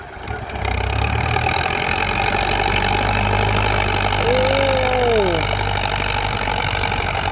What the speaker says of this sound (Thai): เครื่องไม่มีเทอร์โบนะหกสูบเนี่ย ไม่ใช่สี่สูบนะครับหกสูบกันนี้